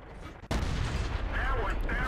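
A tank cannon shot from an M48A1 in World of Tanks, a sudden loud boom about halfway through that rolls into a sustained rumbling roar with faint mechanical whines above it.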